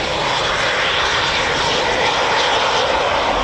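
A Eurofighter Typhoon FGR4 roars at RAF Coningsby, a loud, dense, continuous jet engine rush that fills the air without letup.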